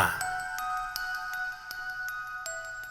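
A notification bell chimes several times in quick succession, bright clear dings ringing out over a sustained tone, fairly faint and without speech.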